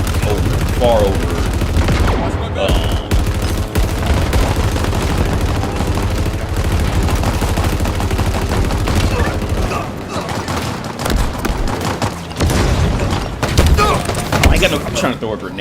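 Rapid bursts of video game gunfire crackle almost continuously, loud and dense with booming hits, while a player talks over the action.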